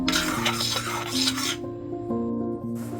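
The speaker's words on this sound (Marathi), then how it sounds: "एकीकडं मी कढईमध्ये गूळ गरम करायला घातलंय" Jaggery heated in a wok for a home cough remedy, a spoon scraping and stirring against the metal in steady rasping strokes, close and fairly loud with faint sizzle, no talking.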